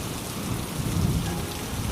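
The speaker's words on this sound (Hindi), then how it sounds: "और देखते ही देखते बारिश शुरू हो गई।" Heavy rain pours steadily in a thunderstorm, a dense even wash of falling water with a faint low rumble beneath, continuous and without any voices.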